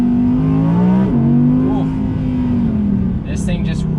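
A 2020 Audi R8 V10 with sport exhaust engaged runs with a steady droning engine note that shifts pitch slightly as it rises and settles, heard from inside the car while driving.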